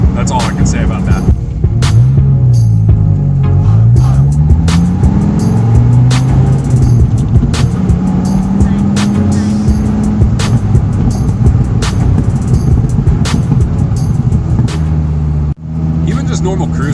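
A Dodge Viper cruising at normal speed, its engine giving a deep steady drone with pitch rising and falling through gear changes, heard from inside the car beneath someone talking.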